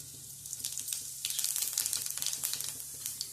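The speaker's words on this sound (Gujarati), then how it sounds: "આ તેલની અંદર આપણે થોડું જીરું નાખીશું" Cumin seeds crackle and sizzle in hot oil for a Gujarati kantola sabzi, a steady close frying hiss with dense popping bursts that thicken midway, no voices present.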